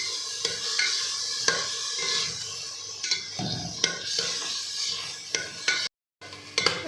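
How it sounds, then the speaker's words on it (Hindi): Chicken pieces cooking in a pan for chicken vegetable hot and sour soup, with a soft steady sizzle under repeated scraping stirs and light utensil clinks against the pan, briefly cut off near the end. "अब इसको मैं जो है चिकन का कलर चेंज होने तक इसको पकाऊंगी अच्छे से।"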